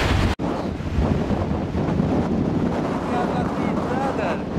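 A strong storm wind blows on a mountain during a walk, roaring and buffeting the microphone continuously and loudly, with a brief dropout near the start.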